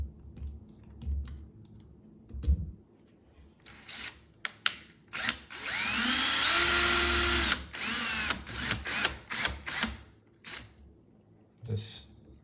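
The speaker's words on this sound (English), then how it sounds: "Then I will use a power drill" Power drill driving screws while installing a Santec 3/4-inch thermostatic valve, with short bursts and one longer sustained whir around the middle, interspersed with clicks and handling noise.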